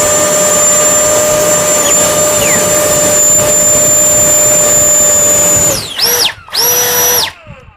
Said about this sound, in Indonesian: Saya akan nyalakan yang one fan dulu